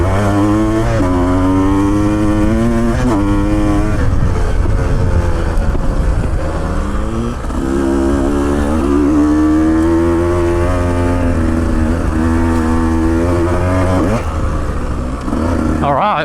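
Motorcycle ridden off-road on a guest farm, engine droning steadily and loud with shifting revs throughout, wind buffeting the microphone, and a rider's voice faint underneath.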